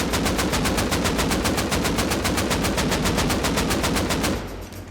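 Sustained automatic AK rifle fire in the video game Rust Console, a rapid, even stream of loud close shots lasting over four seconds before stopping abruptly.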